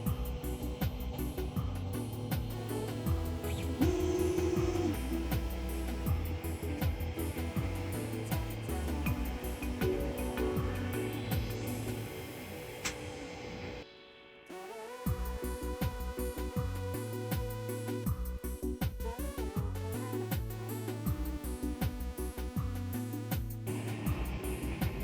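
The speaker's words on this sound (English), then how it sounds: "bed's all warmed up, printer head's warmed up, and it's ready to start spitting out plastic" A 3D printer extrudes plastic for a polar bear model, its stepper motors giving a steady stream of shifting whirring tones and mechanical buzzing. The sound is close and continuous, with a brief pause midway.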